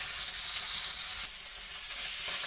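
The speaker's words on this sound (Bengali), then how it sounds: "মাছটাকে উল্টে দিচ্ছি, ভালোভাবে ভেজে নেবো উল্টিয়ে।" Fish heads fry in a pan with mustard oil after being flipped, a soft, steady sizzle and crackle heard close up and continuous, with no talking.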